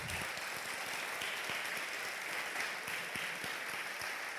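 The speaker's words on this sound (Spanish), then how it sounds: "yo pido un fuerte aplauso en esta mañana" A church congregation gives a strong round of applause during a morning service, a dense, even wash of many hands clapping that holds steady throughout.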